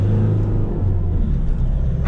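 A 2021 Nissan NV350 Urvan base-model van engine bogs down as it accelerates, giving a steady, close, heavy low rumble without much rise in revs, heard alone for about two seconds.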